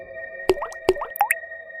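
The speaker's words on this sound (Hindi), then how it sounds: "उसके पैरों से पानी टपक रहा था" Water drips in a horror story sound effect, with two sharp plops and a few wet, squishy drops ringing close and clear against a faint steady tone.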